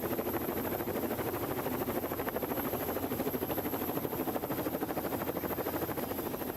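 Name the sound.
helicopter flying over race start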